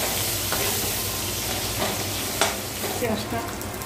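Two bay leaves frying with onions in a pan, a dense continuous sizzle with a few faint spoon scrapes and one brief clack, steady and close.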